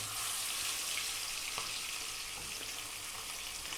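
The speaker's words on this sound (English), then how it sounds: "What we're going to do is we're going to drop the fish in." Safi fish sizzles and fries steadily in hot oil in a pan, a dense continuous crackle close up with no talking.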